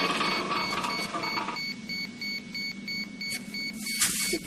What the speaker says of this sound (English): The alarm's going again.